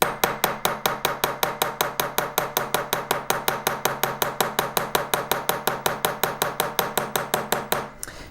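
A small hammer taps a metal sheet to texture a metal lily, striking in a fast, even rhythm of about five light, ringing blows per second for roughly eight seconds before stopping.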